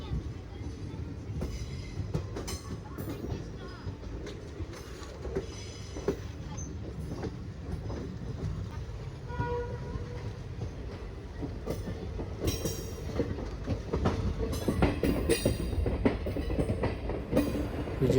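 An express train running with ICF coaches between Vijayawada and Secunderabad, heard from inside as a steady rumbling roll with intermittent clickety-clack of wheels over rail joints, moderately quiet, with some voices in the background.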